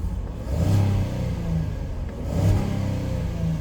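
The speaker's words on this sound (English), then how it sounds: "The motor sounds great." A 2018 Ford Explorer 4WD with a bad transmission idles with its engine running, and the low rumble swells twice as if lightly revved. The sound is steady and close, with no talking.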